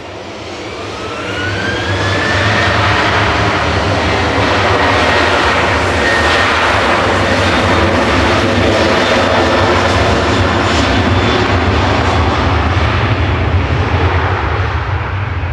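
A TUI jet airliner takes off at Manchester Airport, its engine roar swelling quickly to a loud, steady, rumbling thrust with a rising whine that holds for the rest of the stretch.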